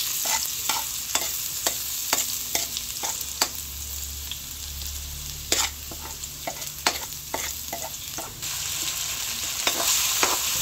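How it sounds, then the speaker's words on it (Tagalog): Garlic and onion sautéing in hot cooking oil for a home-made creamy spaghetti, a steady close sizzle broken by repeated sharp clicks and scrapes of a spatula stirring the pan. "Lalagay ko na po yung bawang at sibuyas. Akin po muna igigisa."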